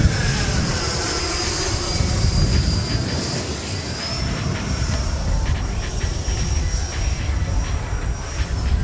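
A jet airplane taxiing nearby, its engine giving a steady high whine over a broad rumbling roar, loud and continuous, with a light rhythmic rattle partway through.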